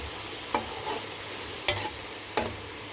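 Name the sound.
stirring frying namak paray with a spoon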